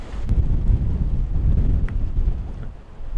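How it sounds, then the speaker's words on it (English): Gale-force wind roars steadily across the microphone in heavy low buffeting gusts at a harbour in Monaco, loud and continuous with no voices. "This is high speed gusts."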